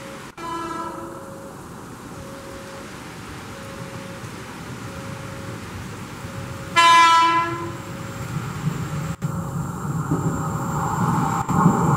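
A KRL Commuter Line train from Tanah Abang rumbles steadily into Rangkasbitung terminal station in heavy rain, sounding one loud, sustained horn blast midway, while the rolling noise swells toward the end.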